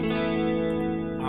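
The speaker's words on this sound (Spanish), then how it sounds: "paso con el scroll para otro lado y le añado un estéreo chorus." An electric guitar run through a stereo chorus patch on a Zoom G5n multi-effects unit rings out as a sustained, shimmering chord at moderate level, heard alone.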